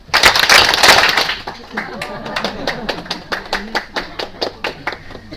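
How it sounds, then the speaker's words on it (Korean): A church congregation in Korea gives celebratory clapping as a crowd, starting with a loud burst of mixed noise and voices, then settling into a run of distinct, evenly spaced group claps in a steady rhythm. "다 같이 축하 박수 3번 시작"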